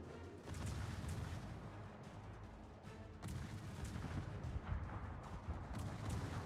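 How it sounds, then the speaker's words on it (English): Warship gun salvos in World of Warships, a dense, continuous rumble of distant booming artillery with repeated heavy thuds layered over a low roar. "More Ohio salvos going in on Perseus."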